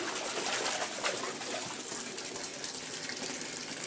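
A bath bomb fizzes and bubbles in bath water, giving off light pink color as water runs; a soft, continuous hissing gurgle with faint splashy texture, close and fairly quiet, no talking.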